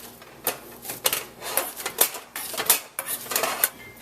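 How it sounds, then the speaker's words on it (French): Boiled potatoes are mashed in a pot with no liquid, butter or salt, a quick run of irregular clacking, squishing strokes, close and fairly faint, with no talking. "On va piler nos pommes de terre sans mettre de liquide ou sans mettre de beurre ou de sel."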